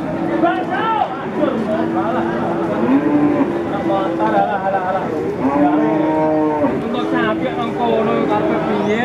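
Young feeder cattle at a livestock market in Indonesia, several loud overlapping moos one after another from close by over a busy background.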